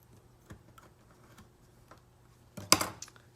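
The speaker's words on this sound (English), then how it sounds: "Cut the hose in two." Fuel hose for a BMW E36 dual fuel pump setup being cut in two: a single short, sharp snip lands near the end, close and moderately loud after quiet faint ticking.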